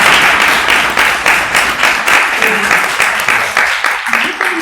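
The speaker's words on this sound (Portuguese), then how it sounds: "eu queria pedir uma salva de palmas para o Grau." A lecture audience at an academic event breaks into sustained applause, dense clapping that stays loud and steady throughout the short stretch.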